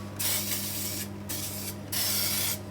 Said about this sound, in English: all you have to do is just spray some on the bottom and the sides of your tins